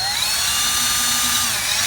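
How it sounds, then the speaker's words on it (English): A variable speed DeWalt drill with a polishing wheel spins on a car headlight, giving a steady high whine with a slight pitch shift, close and loud, with no talk. "I've got my variable speed DeWalt drill to do this."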